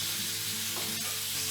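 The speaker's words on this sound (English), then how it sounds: "So while they get their brief fry in the pan" Chicken pieces, skin on, fry briefly in a pan with a steady, close, even sizzle and a faint clink near the middle, no talk.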